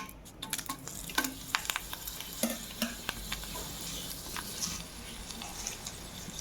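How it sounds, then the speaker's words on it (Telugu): Whole spices, dried red chillies, cumin and curry leaves tempering in hot oil, a steady close sizzle and crackle with sharp pops and scraping stirs throughout. "తాలింపు దినుసులు వేసుకున్నాము."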